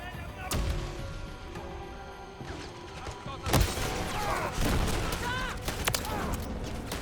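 A grenade blast sounds in Modern Warfare 3 Zombies, one sharp boom midway through mixed with scattered gunfire and game noise, with a voice talking over it.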